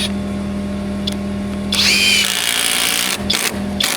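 Cordless drill driving a 5-inch universal structural screw into carport framing, a short whirring burst with steady background hum and a couple of brief follow-up pulses.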